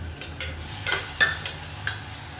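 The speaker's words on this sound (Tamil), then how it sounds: "சேர்த்துட்டு இப்போ நல்லா வதக்கி விட்டுக்கலாம்." Ground tomato paste sautéing in oil in a pan for kurma, with a soft steady sizzle and several quick scraping stir strokes spaced about half a second apart, close up, no voices.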